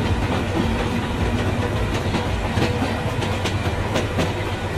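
A train runs along the track in a Bangladeshi train simulator video game, with a dense, steady rumble and clickety-clack rhythm close up throughout and no voices.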